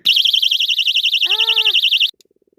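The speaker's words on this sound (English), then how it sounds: "it's an alarm. You push this down." A handheld personal alarm, set off by pushing it down, gives a loud, continuous warbling electronic shriek for about two seconds before cutting off abruptly.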